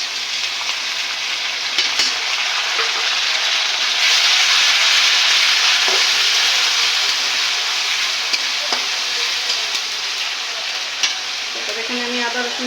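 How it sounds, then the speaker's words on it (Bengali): Onions frying in a pan with cinnamon, cardamom and whole spices for chicken biryani, a loud, continuous sizzle with occasional stirring scrapes and clicks near the end. "এখানে আমি পেঁয়াজটা ভেজে নিচ্ছি"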